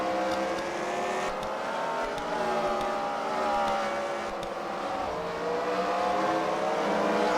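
Several race cars in a heat at the Freedom Factory during a CWRL fight night, engines droning steadily together with rising and falling harmonic whine as they work through lap traffic, continuous and moderately loud at a distance.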